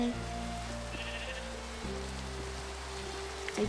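A sheep bleats in a Minecraft farm game, a few clear steady game bleats over a quiet backdrop with a soft patter like rain, no talking.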